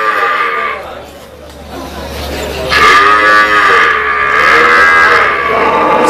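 At a dairy cow contest at a coffee fair in Atoyac, dairy cows give loud, close, drawn-out moos, two long calls separated by a brief lull, with people talking around them.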